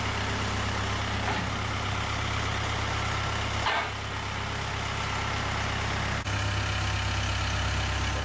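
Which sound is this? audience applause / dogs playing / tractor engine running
tractor engine running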